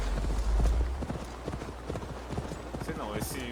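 Horse hooves clip-clop in the video game Assassin's Creed Valhalla, a quick steady trot of close hoofbeats running the whole length over a low rumble, with a brief rising whinny-like sound near the end.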